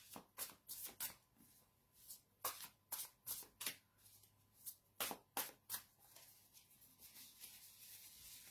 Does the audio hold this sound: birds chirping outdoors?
no